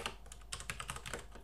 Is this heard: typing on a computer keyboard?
yes